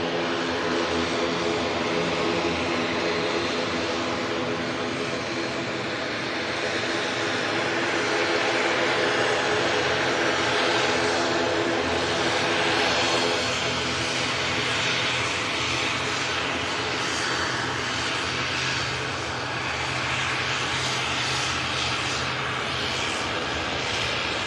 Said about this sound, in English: Aer Lingus ATR 72 in from Belfast City.